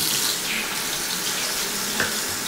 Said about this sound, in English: Turn on your water again.